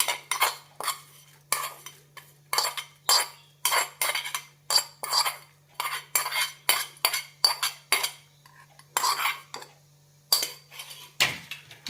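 A spoon stirs neyyappam batter made with rice flour, sesame seeds and ghee-fried coconut pieces, giving a steady run of close, loud metallic clinks and scrapes in rhythmic bursts against the bowl, with no talking.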